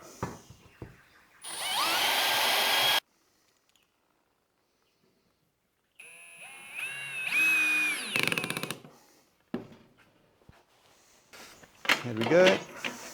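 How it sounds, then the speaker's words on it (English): A power drill driving screws into wood on a boat build whirs in short bursts, spinning up and down, with a pause of near silence between runs and some clattering at the end. "Drill it and screw it."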